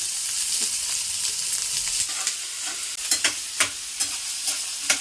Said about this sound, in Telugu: అది చిచ్చిటా ఉంటుంది. చిచ్చిటా అన్నప్పుడు ఆనియన్స్ వేసుకుంటున్నాను.